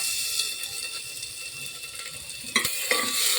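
Ginger paste frying in a pan, a soft steady sizzle close by, then a pair of sharp spoon scrapes and clatters against the pan as it gets stirred, no voices.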